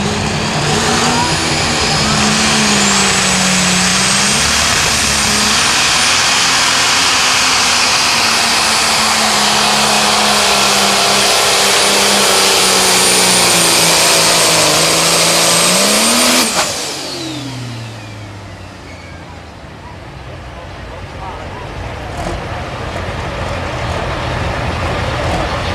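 A John Deere pro stock pulling tractor roars at full power during a pull at Mound City, Missouri, its loud high-revving engine climbing steadily for about sixteen seconds before abruptly cutting off and fading to a lower distant rumble.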